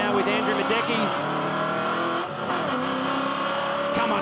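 Race car engine howling around a circuit with gear changes and revs rising and falling, loud and close, under a commentator's voice.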